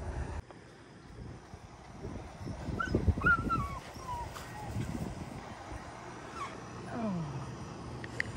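Aussiedoodle puppies whimper and yip outdoors in short, high, wavering cries scattered through, fairly faint under wind noise and rustling.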